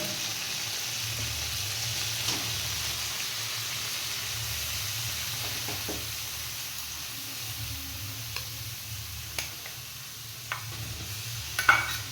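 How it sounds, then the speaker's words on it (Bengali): Beetroot frying in a pan gives a soft, steady sizzle with faint scraping strokes of a spoon stirring, a few light knocks near the end; no voices. "বিটটা দিয়ে ভালো করে আমি মিক্স করে নিলাম।"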